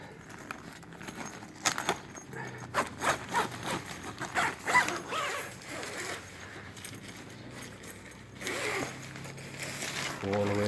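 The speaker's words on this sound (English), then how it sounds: "YKK zippers on the inner tent." A YKK zipper on the fly door of a one-person semi-geodesic freestanding tent is pulled open in several quick, raspy runs. Soft handling noises of the tent fabric come in between the runs, heard up close with no voices.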